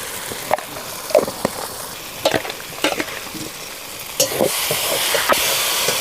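Mutton biryani masala frying in oil in a pan after Kashmiri chili powder goes in, with sharp scraping stirs and clinks over a growing sizzle and hiss that swells into a loud steady fry near the end.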